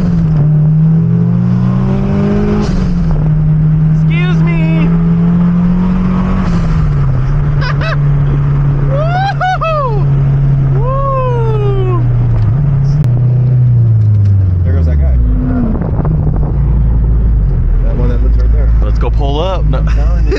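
A 500hp Honda Civic race car accelerates past with a loud, droning engine note that rises and falls, while people talk and shout over it close by.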